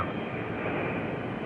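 A Grumman F-14 Tomcat jet taxis across a runway, a steady broadband engine roar heard at moderate distance for a brief moment.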